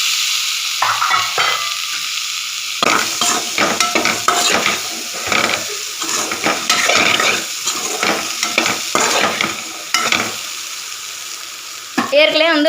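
Chickpea sundal with turmeric is stirred in a frying pan, a spoon scraping and turning the boiled chickpeas over a continuous close sizzle, with brief pauses between strokes.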